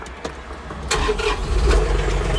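Close up, a John Deere 3039R compact tractor engine cranks, catches and settles into a steady, rumbling idle.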